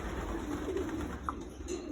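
Pigeons coo softly inside a loft, low murmuring calls faint beneath a steady background hum, with a brief higher note partway through.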